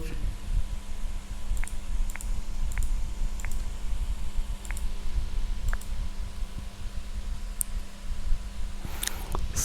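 Keys tapped on a computer keyboard while a title is typed, short separated clicks in small bursts over a steady low fan hum, fairly close and quiet.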